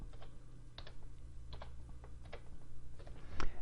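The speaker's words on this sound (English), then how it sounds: "okay, I'll type in today's date maybe" A date being typed on a computer keyboard, with a short run of close, quiet key clicks in uneven bursts, ending on a firmer keystroke.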